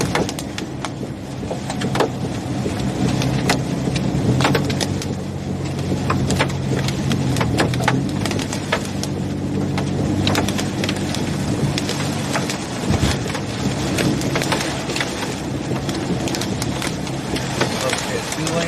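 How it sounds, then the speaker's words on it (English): Rain and hail drumming on a car during a Nashville, Tennessee tornado thunderstorm, a loud, dense, continuous patter with sharp individual impacts and rumbling underneath, heard from inside the vehicle. "Got some decent hail in here."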